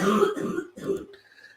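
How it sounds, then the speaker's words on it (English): A woman gives a couple of rough, throaty coughs close by, followed by a brief faint tone as it quiets. "that is my poor wife still coughing up a storm."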